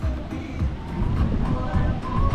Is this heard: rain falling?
no